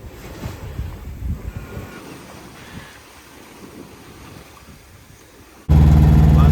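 Steady wind rushes and waves wash around a sailboat passing beneath a large bridge on the Kattegat, then a sudden loud gust blasts the microphone at the end.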